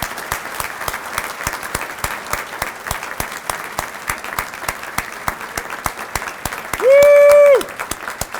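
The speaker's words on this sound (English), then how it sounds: "Let's give you a big round of applause" Audience applause at a science community luncheon hosted with Shimadzu Scientific Instruments, a dense, steady crowd clapping with crisp individual claps, joined near the end by a brief loud whoop from one person.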